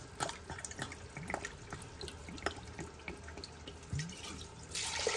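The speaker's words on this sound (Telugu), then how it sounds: "4 గ్లాసెస్ వాటర్ పోస్తాను" Water splashes and trickles into a pressure cooker with rice in short bursts, close by, with small clinks and no talking.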